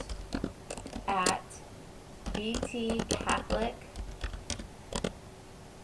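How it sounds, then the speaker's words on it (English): A name being typed on a computer keyboard while setting up a Google Doc, heard as quick close key clicks in short bursts under a nearby voice that keeps talking. "you have got to type my name down here"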